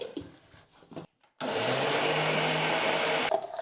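A kitchen mixer grinder whirs loudly and steadily as it grinds soaked rice and salt into a smooth idli batter in a jar, starting abruptly after a pause and running alone without talk.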